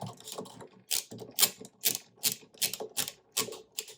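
Motor mounts on a Dillon RL1100 reloading press with a Mark 7 Autodrive being tightened, heard as a steady series of sharp metallic ratcheting clicks in quick, fairly even bursts, close and alone.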